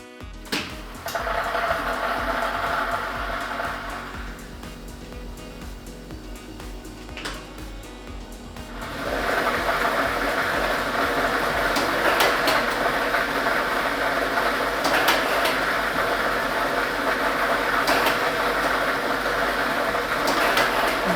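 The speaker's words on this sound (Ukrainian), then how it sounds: "І ми вмикаємо лототрон" A lottery drawing machine runs with a mechanical whir that eases briefly, then returns as a steady, fuller blowing rumble with faint clicks for the rest of the clip, with no voices.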